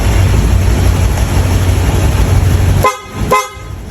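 Two short, loud car horn honks close together near the end, over a steady rumble of engine and road noise.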